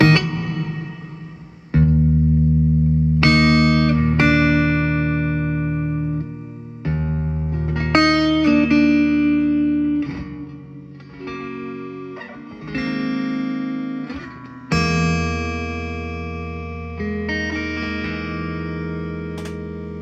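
Electric guitar chords ring out one after another through a Fender Princeton 65 DSP amp, each swelling into a long, lush plate reverb wash that lingers before the next strum.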